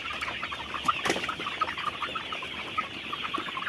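A flock of healthy brown layer chickens on a poultry farm clucks busily and continuously, with overlapping calls and a few louder squawks rising from the steady farmyard chatter.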